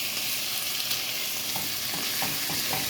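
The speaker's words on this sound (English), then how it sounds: "We now have all of our vegetables cooking." Peppers and onions sizzle in hot oil as a steady, dense frying hiss, close and continuous, with a few soft stirring clicks near the end and no voices.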